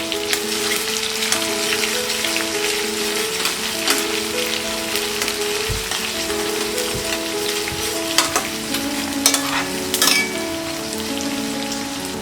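Ivy gourd with onions and dry red chilies frying in a pan, a steady crackling sizzle close up, punctuated by spatula scrapes and stirring clatter, particularly near the end.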